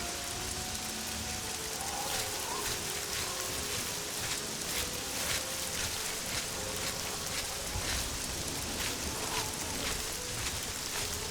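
Steady, dense rain pours throughout in the video game The Elder Scrolls IV: Oblivion, a constant broadband hiss with scattered droplet patter, close and even, no voices.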